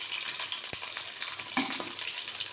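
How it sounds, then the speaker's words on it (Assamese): Rice and vegetables are stir-fried in a cooker for pulao, a soft continuous sizzle broken by a few scraping stirs and clinks, with no voices. "এতিয়া অলপ সময় মই লৰাই লৰাই এনেকৈ ভাজি থাকিম।"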